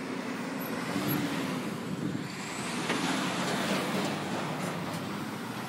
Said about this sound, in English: There's a recycling truck.